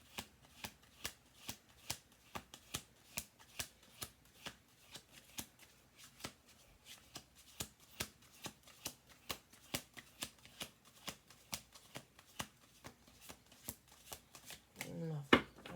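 Tarot cards riffle-shuffled on a table in a steady run of sharp, rhythmic flicks, close and fairly quiet, ending with a louder knock as the deck is squared.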